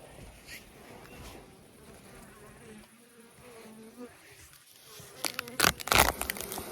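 Steady insect buzzing from many bees hums close by, with a few louder rustling bursts near the end.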